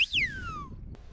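A single loud whistle of whistled Occitan speech, swooping down sharply in pitch and trailing off, heard over low background rumble in the mountains, followed by a short click.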